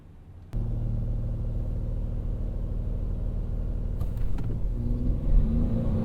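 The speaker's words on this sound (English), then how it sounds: "This is going to be the most exciting drag race on YouTube." A 2022 Chevy Blazer and a 2022 Ford Edge, midsize American crossovers, accelerating hard side by side in a drag race, heard from inside as a sudden steady engine roar and rumble that swells slightly toward the end, with no talking.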